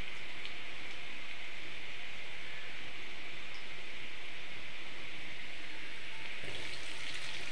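Chopped ginger and garlic fry in a pan, producing an even, hissing sizzle close by that holds steady throughout without pauses or voices.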